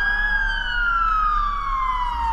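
A wailing emergency vehicle siren from a Roblox firefighting roleplay set in Międzyzdroje sounds loud and continuous, its pitch sliding steadily downward, with a low engine rumble underneath and no voices.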